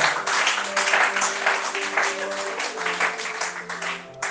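A church congregation claps and cheers in loud, sustained applause, with many hands and mixed voices blending into a continuous roar that stays steady throughout.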